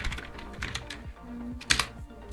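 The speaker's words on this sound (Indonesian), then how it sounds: "Seperti misalkan kalian mengetik di Microsoft Word." Typing on a computer keyboard in Microsoft Word: close, uneven bursts of clicky keystrokes with short pauses between them, heard alone.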